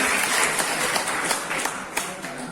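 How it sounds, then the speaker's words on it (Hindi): Seminar audience at a college giving a burst of applause, a steady rattle of many hands clapping at moderate distance with a few sharper claps standing out, no one speaking over it. "एक बार जोरदार तालियां इस वीडियो के लिए।"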